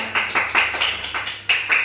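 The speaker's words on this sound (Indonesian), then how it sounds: "Tepuk tangan untuk semuanya." Indonesian primary classroom during a language lesson: a group of pupils claps in roughly eight loose, bunched bursts, close and fairly loud, with a faint low hum underneath and no talking.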